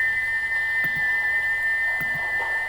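A steady, piercing steam-engine whistle holds without a break, its valve stuck open, with a few soft knocks and clanks in the background.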